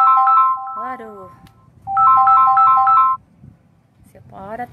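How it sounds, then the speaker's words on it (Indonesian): A phone ringtone for an incoming call plays a bright melodic phrase twice, with a dog's whining yelps in the gaps, outdoors near coconut trees. "Siapa ada terus telepon aku nih"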